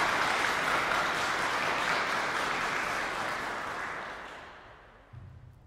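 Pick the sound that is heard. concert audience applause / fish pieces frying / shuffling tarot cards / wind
concert audience applause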